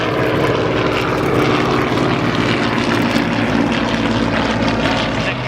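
A vintage propeller plane drones steadily overhead at an airshow at Duxford, its engine note loud and continuous with a rough, buzzing throb throughout.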